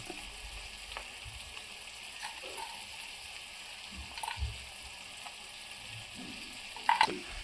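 Cashew masala curry cooking in a pan on a gas stove, a faint low sizzle and gentle bubbling with a few soft stirring knocks and a brief clatter near the end, no talk.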